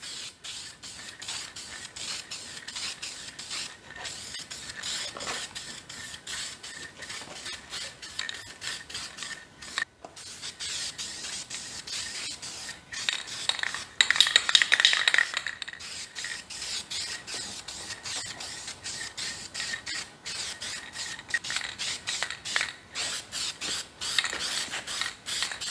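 Spray can coating a Chevy 327 engine block orange, a steady hissing spray of broad noise that runs with short pauses and bursts, close by, alongside light rattling and handling noises, with no talk.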